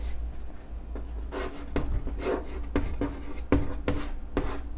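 A teacher writes on a board during a mathematics class, giving a close series of irregular scratching strokes and taps with short pauses between them.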